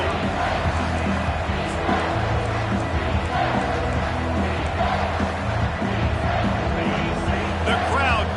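Stadium crowd noise from a college football video game, a steady dense roar of cheering that runs loud and continuous throughout, with commentary-like talk layered over it.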